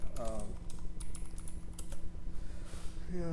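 Keys clacking on a computer keyboard during landscape architecture BIM software work, a quick run of close, crisp taps spread across a few seconds, with faint voice traces and low hum underneath.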